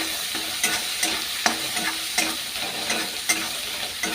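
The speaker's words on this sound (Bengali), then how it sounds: "আমার রান্নাটা লাল লাল করে ভেজে নিলাম।" Curry with ginger-garlic paste fries in a pan with a constant close sizzle, punctuated by regular scraping strokes of a stirring spatula every half second or so, no voices.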